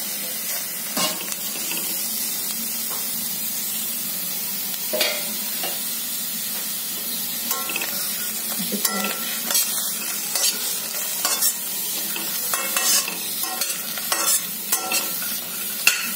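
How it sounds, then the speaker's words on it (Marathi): Cluster beans sizzle steadily in hot oil while a utensil repeatedly scrapes and stirs them in a wok, producing irregular clacks over the constant frying hiss. "ही गवार भाजून घेते।"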